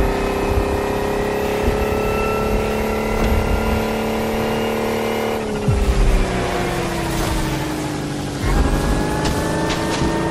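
The all-electric Lotus Evija hypercar accelerates hard in The Crew Motorfest, making a loud whining electric drive hum. The pitch climbs steadily, with two abrupt shifts in tone as speed builds, and no talk over it.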